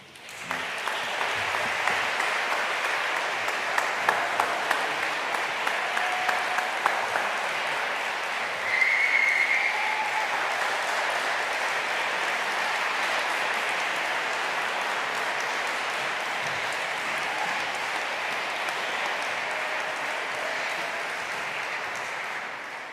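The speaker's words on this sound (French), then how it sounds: "On peut applaudir cette parole de Dieu." A church congregation applauds steadily for about twenty seconds, a dense, sustained wash of many hands clapping at a fairly even level, slightly more uneven and accented near the start.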